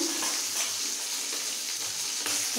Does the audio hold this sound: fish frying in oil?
yes